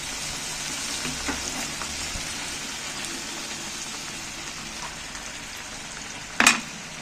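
Flat-bean paste patties fry in a pan, a steady close hiss of oil that runs throughout, with a sharp scrape and clatter near the end as a patty is flipped.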